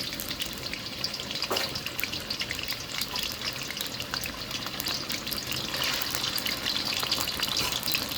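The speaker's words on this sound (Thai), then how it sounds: "น้ำมันเดือดได้ที่แล้วนะครับผม ทอดหมูครับ" Pieces of pork deep-frying in hot oil for a Thai salt-and-chili stir-fry, a loud continuous bubbling sizzle close up, growing slightly more intense toward the end.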